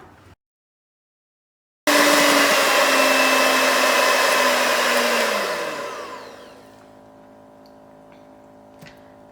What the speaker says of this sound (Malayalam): അപ്പോൾ ഞാനിവിടെ മുട്ടയും പിന്നെ നമ്മുടെ എസൻസും കൂടിയിട്ടൊന്ന് ബീറ്റ് ചെയ്തിട്ടുണ്ട്.